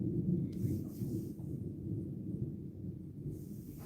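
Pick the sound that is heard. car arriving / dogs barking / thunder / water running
thunder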